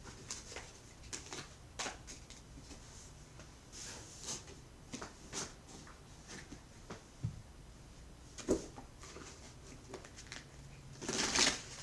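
Tarot cards being shuffled by hand, soft papery riffles and taps repeating unevenly throughout, quiet and close, ending with a slightly louder burst of card noise.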